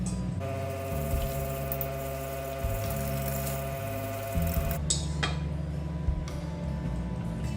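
Wet ingredients for banana bread being whisked in a bowl: a steady, buzzing whine that shifts pitch a few times, with brief clicks and knocks near the end, close and continuous with no talking.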